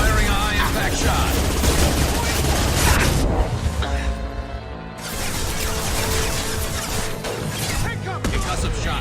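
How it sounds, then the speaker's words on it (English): A high-impact concussive shot goes off in the video game Mass Effect 2 amid dense gunfire and blasts, loud and continuous, then a brief lull with a fading ring before heavy combat noise resumes. "Firing a high impact shot."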